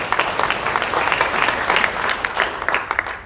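A short burst of scattered clapping from a group, moderately loud and steady, tapering off at the end.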